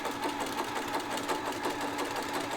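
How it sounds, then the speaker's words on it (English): Home sewing machine stitching a buttonhole bar tack on a dress, a steady, rapid mechanical whir that runs close and even from start to finish with no pauses. "now it's doing the bar tack"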